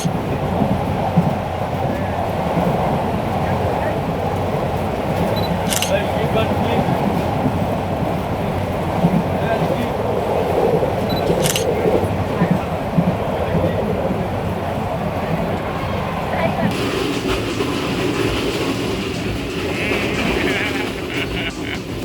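Interior of a moving passenger train in Bangladesh, a steady rolling rumble of wheels and carriage with occasional sharp clicks and a slight shift in tone near the end.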